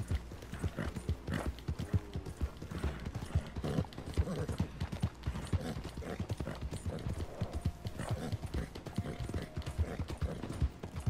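Horse hooves clip-clop steadily in Red Dead Redemption Online, a fast continuous rhythmic trot heard up close against low ambient rumble, with faint murmurs of voices now and then.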